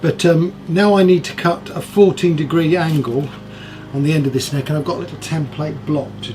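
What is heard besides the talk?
No everyday noise stands out behind the speech.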